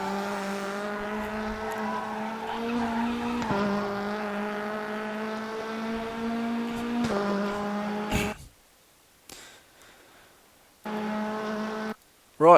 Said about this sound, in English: that's a lap around the Salzburgring and the Lada